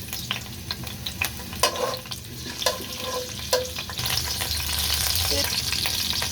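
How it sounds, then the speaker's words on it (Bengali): Chopped ginger and garlic dropped into hot oil for fried rice crackle steadily, with a few sharp utensil knocks, then the sizzle swells louder and fuller. "এখানে আদা রসুন কুচি গরম তেলের মধ্যে ছেড়ে দিলাম।"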